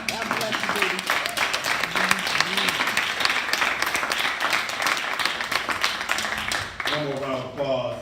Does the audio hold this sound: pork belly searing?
no